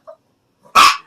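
Ginger, a pet dog, lets out one short, sharp yelping whine, close and loud, after a faint brief squeak.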